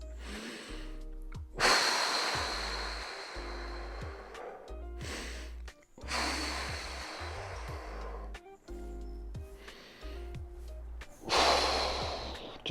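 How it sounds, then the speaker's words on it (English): Slow, deep breaths during a plantar fasciitis foot stretch: long audible inhales and exhales come close to the mic in a repeating rhythm, with quiet pauses between them and no talking. "nice deep breaths."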